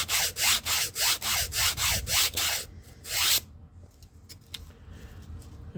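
A Rabid Models hinge slot tool cuts an even 45-degree bevel along a foam model surface: about eight quick, regular rasping strokes, then one longer drawn-out scrape, close and fairly loud, ending in quiet room tone.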